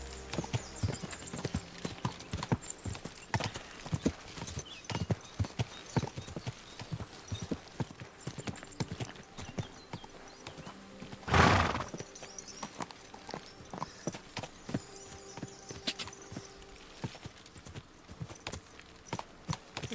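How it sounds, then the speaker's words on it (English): Horse hooves in Kingdom Come Deliverance II clip-clop in a steady walking rhythm for the whole stretch, with one brief louder burst partway through. "taking my horse off the main road."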